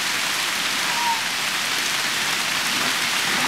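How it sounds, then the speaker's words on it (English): Steady rain pours down in a forest, a dense, even hiss close around with no break or voices. "Out in the rain getting drenched"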